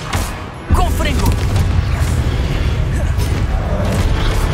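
A Confringo fire spell explodes in the Hogwarts Legacy game. Sudden loud boom at the start, then a sustained roaring rumble with a voice speaking over it.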